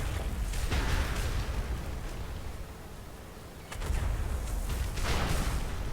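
Cannon shots and explosions from World of Warcraft in the Nazmir zone, heavy booming blasts with a rumbling tail, one burst near the start and another louder pair after a lull.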